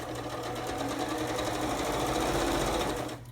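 A sewing machine stitches the seam of a fabric water bottle cover, a fast, even, motor-driven whirr of needle strokes running close and continuous before stopping abruptly.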